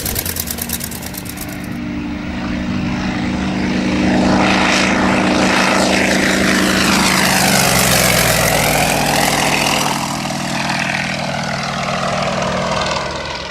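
A propeller aircraft flying aerobatics roars loudly throughout, its engine note swelling and shifting in pitch as it climbs, dives and turns overhead, with a strong sustained drone and no talk.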